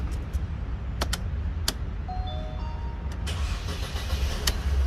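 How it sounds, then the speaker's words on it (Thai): A Mercedes-Benz E250, fitted with a new electric steering lock, gets its key inserted with a few sharp clicks and short chimes, then the engine cranks and settles into a steady close idle. "ประกอบรถเสร็จเรียบร้อยนะครับเดี๋ยวทดสอบสตาร์ทนะครับ เสียบกุญแจนะครับ"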